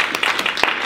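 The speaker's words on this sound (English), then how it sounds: "Seriously, can we give her a round of applause?" Audience at a support group meeting applauding, a short burst of many hands clapping with sharp individual claps standing out.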